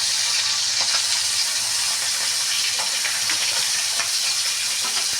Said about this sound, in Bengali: মাছটাকে এবার ভেজে নেব এক একটা করে আমি মাছগুলো দিয়ে দিচ্ছি সব